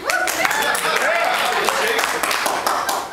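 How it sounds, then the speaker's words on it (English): Audience applause and scattered clapping fill a crowded hall during a Q&A panel with a guest at Chiller Theatre, a steady, dense wash lasting about three seconds with some voices mixed in. "Everyone, you can applaud right now if you want to."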